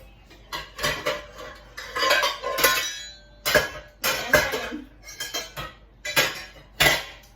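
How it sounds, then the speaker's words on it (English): Metal pots and pans clatter and clank while a cooking pot is pulled out of a kitchen cabinet, a series of loud close bangs and scraping rattles in irregular bursts with brief pauses between them. "And I'm gonna get a pot down here."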